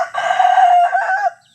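A young rooster, a Black Australorp or Rhode Island, crows once, loud and close, a strained cock-a-doodle-doo lasting over a second before cutting off.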